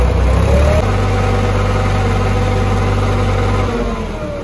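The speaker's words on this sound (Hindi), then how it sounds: "ट्रैक्टर से ट्राली नहीं उठ पाई तो हमने मंगाया दूसरा ट्रैक्टर।" A tractor engine labours to lift a loaded soil trolley in a village, a steady loud low rumble holding for several seconds before easing off near the end.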